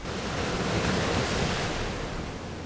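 Sea waves in an anime scene, a dense washing roar of surf that swells and slowly eases over a few seconds, with no voices.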